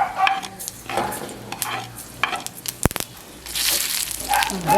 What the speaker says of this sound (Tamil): கடுகு கொஞ்சம் போடுவோம்.